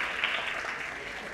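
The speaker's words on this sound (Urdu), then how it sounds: "اس پر تو زوردار تالیاں ہونا چاہیے" An audience at an Urdu conference session at the Arts Council of Pakistan claps steadily, a dense wash of applause at moderate level with no voices over it.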